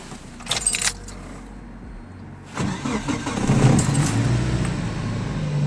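A VAZ 2101 car engine cranks briefly, then catches and settles into a steady idle. Keys jangle just before it starts, and the engine is loud and close.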